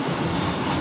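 A train rumbles past close by at a railway crossing with the gate down, a loud, continuous roar that fills the whole moment.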